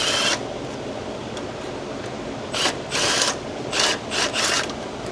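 Pneumatic impact gun backing a bolt out of a 2015 Tahoe 5.3 engine near the manifold: several short, loud, rattling bursts in a row over a steady shop hum.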